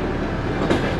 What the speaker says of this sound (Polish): To jest oczywiście najsłabszej klasy wagon kolei postsowieckiej